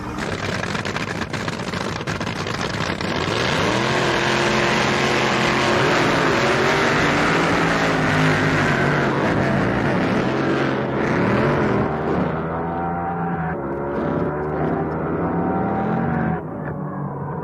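The Spirit of America drag racing boat with a 500-inch Aries motor of about 4,000 horsepower gives a loud, sustained engine roar, harsh and continuous, with rising and falling tones before it cuts off near the end.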